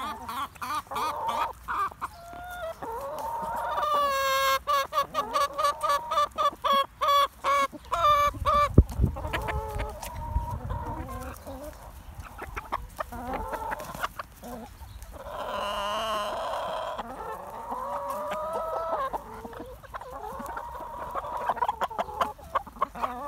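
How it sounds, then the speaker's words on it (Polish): Hens cluck and call close by in a farmyard while being fed animal protein, with a rooster arriving among them; busy overlapping clucks and squawks fill the whole stretch with no talking. "O, i kogut przyszedł."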